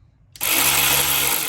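An Enegitech 12V cordless ratchet starts abruptly after a moment of quiet and keeps running with a steady, slightly rough motor whir, close and loud, with no voices.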